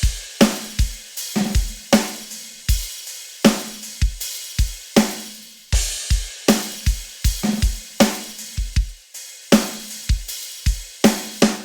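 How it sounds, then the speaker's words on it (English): Crash cymbal and hi-hat play together in a steady, repeating drum pattern with no other sounds: bright splashy washes and crisp ticks over soft low thumps, loud and close. "This is what the crash and hi-hat are going to sound like together."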